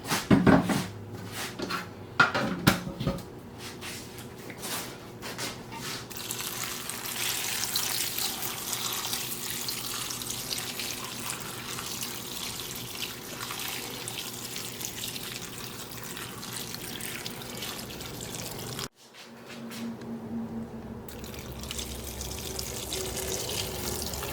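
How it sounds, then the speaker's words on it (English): Filtered water pours and trickles softly over cabbage in a container for fermenting, a quiet continuous flow following a few clunks of handling near the start. "So I have filtered water. And I'm just going to pour that in."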